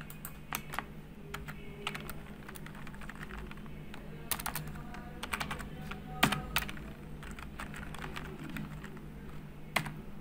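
Keys clack on a computer keyboard as HTML code is typed, a close, irregular patter of single taps and quick runs over a low steady hum.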